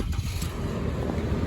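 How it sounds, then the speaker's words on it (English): A petrol Toyota Prado SUV engine revving inside the cabin, a low, loud rumble that rises and falls in short surges. "it revs up. See, you got the revving."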